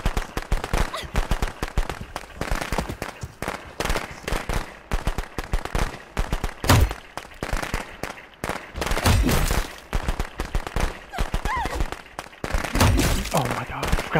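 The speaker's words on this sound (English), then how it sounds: "Fireworks." Rapid crackling bursts of fireworks go off in the Friday the 13th video game, dense popping spread across the whole stretch with brief louder spikes, mixed with game noise and a voice talking over it.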